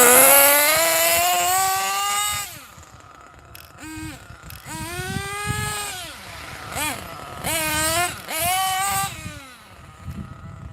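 Nitro engine of a Hot Bodies HPI D8S RC buggy running loud and close, its buzzing pitch rising and falling through several rev swells with short dips between them.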